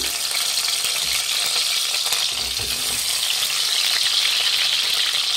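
Chopped tomatoes frying in hot oil for tomato chutney, giving a dense, continuous close sizzle and crackle with faint stirring underneath.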